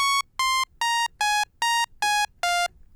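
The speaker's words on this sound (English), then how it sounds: "that main iconic synth lead sound that kind of plays throughout the chords" A bright saw-wave synth lead plays seven short, evenly spaced sustained notes. Each note has rich harmonics and a clean cutoff, sounding loud and alone.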